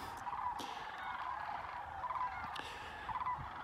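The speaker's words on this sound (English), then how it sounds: "And you can hear them everywhere." Thousands of migrating sandhill cranes call from the fields: a faint, distant chorus of rolling, trumpeting calls over a soft background hiss.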